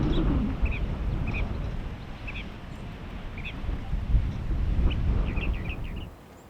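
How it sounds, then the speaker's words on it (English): Mockingbird singing outdoors in strong wind, short repeated high chirps and whistled phrases, fairly faint and distant over a heavy rumbling wind noise. "Another mockingbird singing in the wind."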